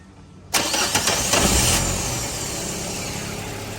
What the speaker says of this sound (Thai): หลังจากเปลี่ยนหัวฉีดเปลี่ยนไส้กรองก๊าซแล้วนะ มาติดเครื่องฟังดูนะ